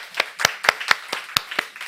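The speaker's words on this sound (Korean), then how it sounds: "우리 박수 축복의 박수 하겠습니다" Clapping from a church congregation during a Sunday service, seven or eight close, crisp claps in an uneven rhythm, fairly loud and with no voices over them.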